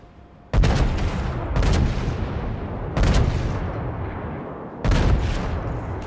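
Heavy naval guns fire in World of Warships: four loud, close booming salvos, each a sharp crack that rolls into a long rumbling tail, spaced about a second or two apart.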